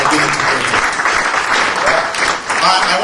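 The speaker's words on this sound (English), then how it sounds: "So please put a round of applause together for yourself for being integrated." A crowd at a fundraising event in Dublin claps loudly and steadily, a dense wash of hands that dips briefly before swelling again, with a voice mixed in.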